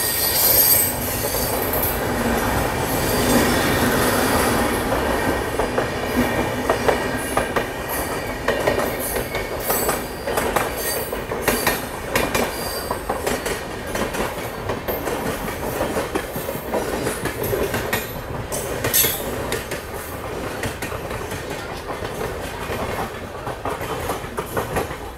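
The Raptisagar Express passing close by on a parallel track in India, a loud continuous rumble of wagons with clickety-clack wheel beats and squealing wheels throughout.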